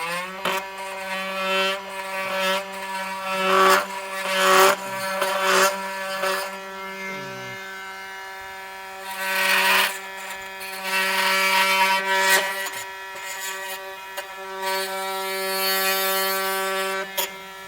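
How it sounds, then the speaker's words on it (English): Oscillating multi-tool cutter removing sealant from a 2025 Subaru Crosstrek, a steady high buzzing hum with rising, scraping bursts as the blade works the material, close and loud throughout. "Now I'm just going to use my multi-tool cutter and just kind of see if I can get this to come off."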